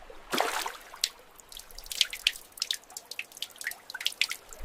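Water drips from a burst pipe in clear, irregular drops, each a sharp little plink, close and fairly quiet against a faint background.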